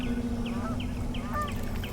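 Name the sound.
flocks of migrating birds calling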